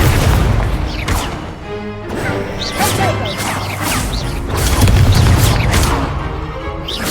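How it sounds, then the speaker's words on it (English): Incendio fire spell cast in the video game Hogwarts Legacy amid loud, dense combat, with booming blasts, whooshes and crashes layered over a constant rumble of battle. "Incendio."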